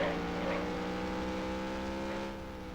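Rival race car engine in the NASCAR Racing 1996 video game, a steady droning whine with layered harmonics that holds evenly and then eases slightly near the end, heard alone.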